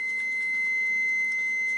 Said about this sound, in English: There's my timer because I pulled them out a little bit early.